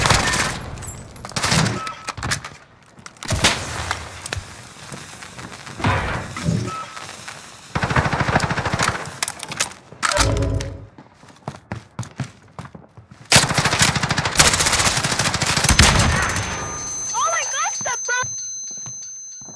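Gunfire in Call of Duty Modern Warfare during a Search and Destroy match: loud, close bursts of automatic fire and scattered single shots, broken by quieter gaps, with a person talking over parts of it.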